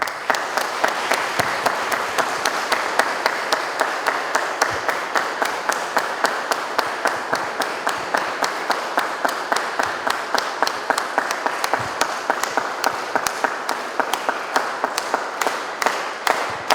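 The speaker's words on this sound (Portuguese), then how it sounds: "Manifestemos nossa alegria e gratidão com uma forte salva de palmas." Steady, sustained clapping from a church congregation fills the space during an ordination ceremony, an even wash of many hands continuing for the whole stretch without a break.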